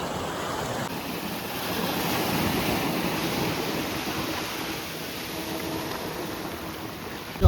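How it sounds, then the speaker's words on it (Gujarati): Orange boat approaching on the sea at Shivrajpur Beach, heard as a steady rushing wash of surf, wind and distant engine, moderately loud and continuous, with a brief thump at the very end. "જો અમારી બોટ આવે ઓરેન્જ કલરની"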